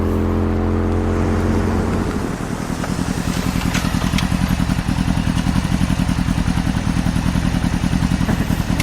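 A motorcycle engine starts and settles into a loud, close, rapid chugging idle that runs steadily to the end.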